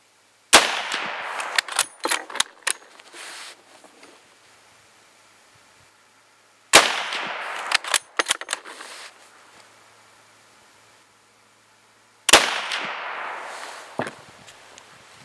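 A Mosin rifle fires three sharp, loud shots of cast bullets loaded with IMR 4198 powder, spaced roughly six seconds apart, each followed by rattling echoes and reverberant decay, with no talking.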